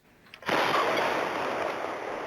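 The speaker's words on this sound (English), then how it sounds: "A deadly explosion in southern Illinois, tearing apart a home, catapulting pieces of it high into the air." A house explodes in southern Illinois, heard on nearby cameras as a sudden loud blast after a quiet moment, followed by a sustained roaring rush of debris that slowly fades.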